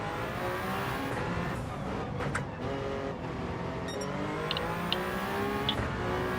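Hypercar engines roar steadily around Watkins Glen in a racing video game, a dense continuous drone with shifting revs, occasional tire squeal and cars passing close.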